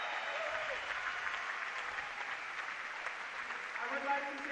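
A large audience at a climbing World Cup final applauds and cheers in a steady, dense wash of clapping, with an announcer's voice heard over the crowd throughout.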